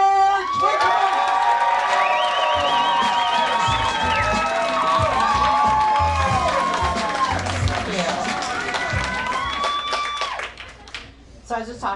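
A comedy club crowd cheers, whoops and claps loudly as stand-up comedian Rachel Burch is introduced at a housewives comedy competition final, with the applause swelling, holding steady, then thinning out near the end.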